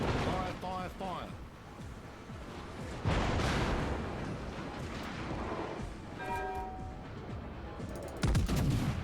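Warship guns fire in World of Warships, heavy booming salvos rolling out in several bursts with a voice talking over parts of the barrage.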